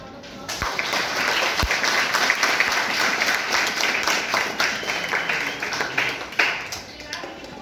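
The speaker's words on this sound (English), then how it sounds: "Please give her a round of applause." A workshop audience claps for a guest speaker in an indoor hall, a steady burst of applause lasting several seconds with a few louder individual claps standing out near the listener.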